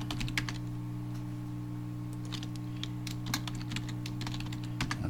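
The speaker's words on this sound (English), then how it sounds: "I'm sorry for the keyboard mashing sound." Rapid typing on a computer keyboard, a steady patter of key clicks over a constant low electrical hum, no voices.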